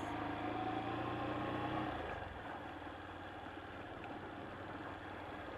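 A motorcycle engine hums steadily while riding through a rural village in Alagoas, Brazil, a low droning note that drops in pitch and loudness about two seconds in, then keeps running more quietly.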